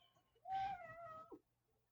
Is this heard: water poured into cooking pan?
no